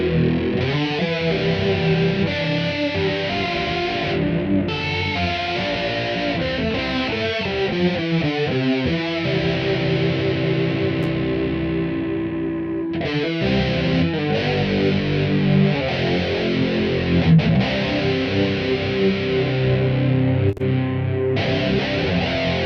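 Guitar through a Line 6 Pod with chorus effect plays loud, continuous distorted chords and riffs with shimmering modulation, including a rapid strummed run and a brief drop before the playing resumes.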